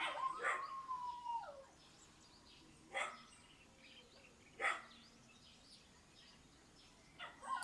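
Dogs bark and howl at a distance, one drawn-out howl followed by several short separate barks spaced seconds apart over quiet background.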